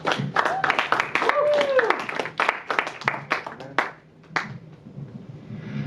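An audience at a stand-up comedy show claps loudly and fast, with a whoop and some voices mixed in. The applause thins out and fades into scattered claps during the last couple of seconds.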